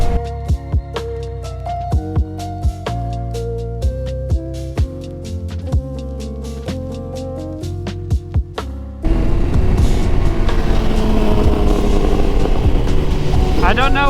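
A Husqvarna Norden 901 motorcycle engine thumps in a steady, evenly pulsing rhythm close by, then jumps abruptly into a louder, rougher roar as it is revved for the last few seconds.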